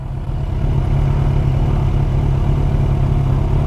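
A Yamaha R1 motorcycle pulls away on a street in Köln, its engine a loud, close, steady low-pitched rumble with a throbbing pulse that swells after a brief quieter start, with no voices.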